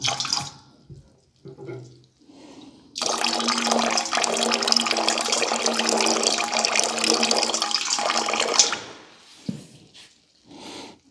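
Maple sap drains from a full pipe into a bucket on a maple syrup evaporator, a steady broadband watery pour lasting several seconds, fairly close, preceded and followed by faint handling sounds.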